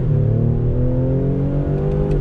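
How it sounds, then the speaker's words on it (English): A 2020 Ford Explorer ST accelerates hard from a dead stop, its engine note climbing steadily in a loud, continuous rising drone heard from inside the cabin. "Here we are from a dead stop on throttle."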